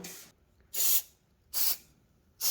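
Short bursts of spray lubricant hit garage door hinges, three crisp hisses spaced under a second apart, close and alone in a quiet space.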